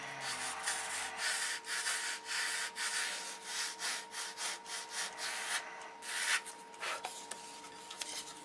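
Rhythmic abrasive scraping of sandpaper on a sanding block against wood, repeated strokes back and forth at close range, with no talking.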